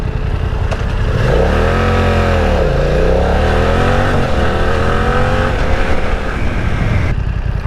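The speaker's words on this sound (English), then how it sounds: "when you really get on the throttle and you load it up and it's really sucking extra air in versus just that ram air effect, you get a really nice deep air intake noise" BMW F900R naked motorcycle engine under hard throttle, a loud continuous deep roar with rising and falling revs and a strong air intake growl, recorded close while riding with no talk.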